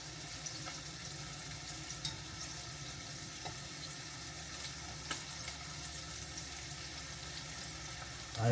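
Sausages fry in a pan with a faint, steady sizzle and scattered small crackles and pops throughout, heard alone at low volume.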